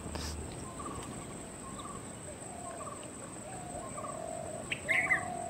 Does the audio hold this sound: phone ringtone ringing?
no